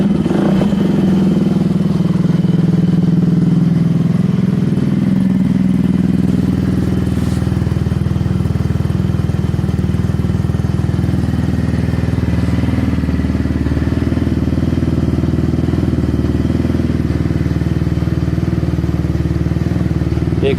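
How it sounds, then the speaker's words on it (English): An old, free moped scooter's engine runs steadily and close by, its loud, rough exhaust droning throughout with a low rumble and some clattering, no talk over it. "The exhaust is absolutely horrible. It sounds terrible."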